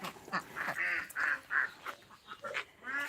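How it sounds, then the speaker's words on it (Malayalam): Several ducks quack in a loose, uneven series, fairly close and clear over quiet background noise. "താറാവിൻ്റെ സൗണ്ടും കോഴിയുടെ സൗണ്ടും"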